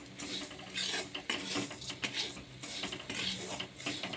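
Sugar and roasted sesame seeds are stirred in a pan over very low heat, giving a steady run of close metallic scrapes and clinks from a spoon against the pan, with no talking.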